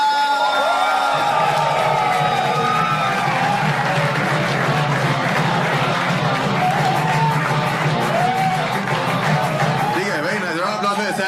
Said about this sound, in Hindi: अगर आप लोग जोर से तालियां बजाओ